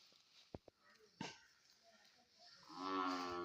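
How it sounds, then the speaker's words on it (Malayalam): Young buffalo calves on a farm calling with a low, drawn-out moo near the end, preceded by a few short knocks and soft voices in the background. "രണ്ട് പോത്ത് കുട്ടികളെ അവനെ നോക്കി വിളിക്കുകയാണ്"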